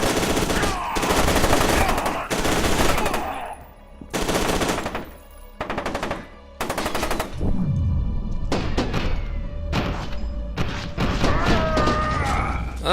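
Bursts of rapid automatic gunfire from FEAR 2 come loud and close, several heavy volleys broken by brief gaps, then quieter thuds and clatter as the shooting dies down.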